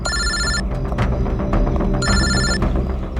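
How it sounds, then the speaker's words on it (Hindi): An electronic telephone ringtone sounds in two short bursts of trilling tones separated by a pause, set against a low hum of background noise in a crime drama scene. "यार सोनल का फोन था"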